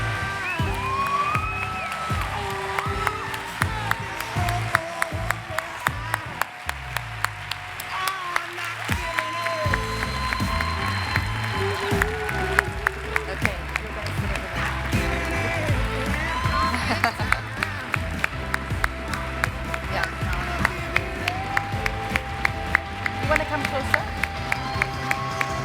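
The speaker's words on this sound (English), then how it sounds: "I think we give a big round of applause and a warm welcome to the rest of our..." An audience at a refugee welcome event breaks into sustained applause and cheering, dense clapping with whoops and crowd noise throughout, a voice briefly audible over it.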